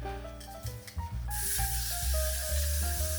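Hair spray hissing onto a lace front wig in one long, close, steady burst that begins partway through and continues to the end, over a faint tonal background.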